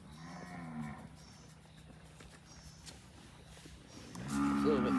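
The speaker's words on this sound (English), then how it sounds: "Like the friendliest cow I've ever had." A cow on a Costa Rican ranch moos close by, one low call at the start and another louder one at the end, with quiet ranch ambience between.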